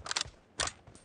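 Sniper rifle reload in PUBG on iPad: a few quick, crisp metallic clicks and clacks from the bolt and magazine, close and isolated, in two short bursts.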